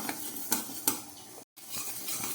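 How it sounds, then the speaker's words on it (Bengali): Mung dal lentils dry-frying in a pan, stirred with a utensil: a soft scraping rustle with two sharper clinks early on, a brief silent break, then steady quiet stirring, no talking. "তার জন্য আমি কিছুটা ডাল এখানে ভালো করে একটু ভেজে নিচ্ছি"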